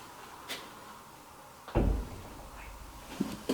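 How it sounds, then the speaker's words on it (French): A door at a retirement home bangs shut with a single solid thud, followed by a few fainter knocks and rattles against a quiet room. "Il va y avoir le bruit de la porte là."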